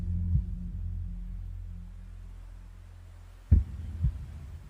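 Deep heartbeat thumps added as an effect within a song, one early and then a paired lub-dub near the end, sounding close and booming over a sustained low hum.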